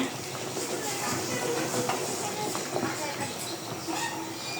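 A pressure cooker boiling lentils for dal lets out a steady, even hiss that runs without a break, with faint sounds in the kitchen underneath.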